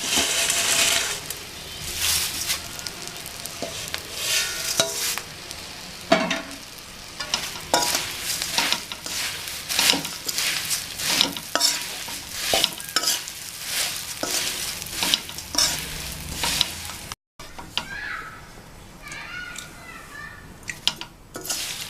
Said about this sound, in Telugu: చివరిగా అటుకులను వేసి కలుపుకోవాలి.